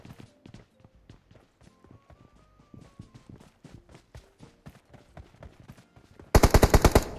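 Rapid automatic gunfire from a PUBG Mobile match, a burst of loud close shots at the end after scattered distant shots and footsteps, with players chatting over the game audio.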